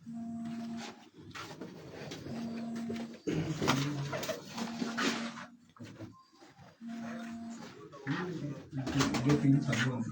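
Rooftop pigeons coo in repeated low throaty rolls, several calls in a row with short pauses between them, while someone talks intermittently nearby.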